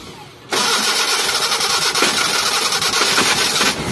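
A Mitsubishi Colt engine cranks and catches at once on a morning start, then runs loud and rough at high idle with crackling pops from the exhaust, close by and steady until the end.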